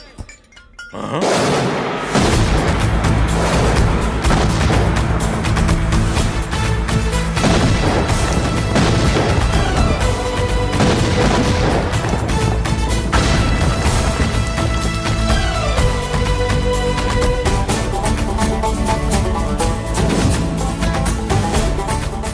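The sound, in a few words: bombs exploding in a film scene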